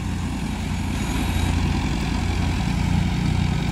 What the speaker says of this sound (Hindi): ये देखिए दोस्तों ये है सोनाली का 60 और ये फार्म ट्रैक 30।